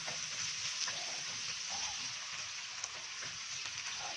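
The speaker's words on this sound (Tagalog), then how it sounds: "So lutuin lang natin yung ating kamatis bago tayo maglagay ng mga seasoning." Tomatoes sizzle steadily in a pan with onion and garlic, a dense, even frying hiss with faint stirring scrapes, close and continuous, with no talk over it.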